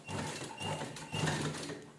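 A sewing machine stitches a strip of trim onto a readymade floor mat, giving a steady, fairly quiet mechanical whir with a gentle repeating rhythm throughout.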